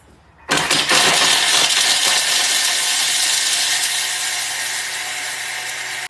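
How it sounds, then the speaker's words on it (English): A Thermomix mills a block of Parmesan cheese at speed 9, starting abruptly into a loud, dense grinding roar that holds steady for about five seconds and then cuts off, close and alone. "add the cheese and mill for 10 seconds, speed 9"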